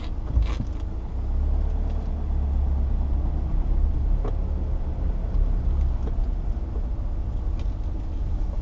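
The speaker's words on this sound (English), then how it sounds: "See, there's a car coming, so I'll reverse back." A car approaches along a narrow country road near Edale while a nearby vehicle idles with its engine running, a steady low rumble throughout with a few faint creaks and no talking.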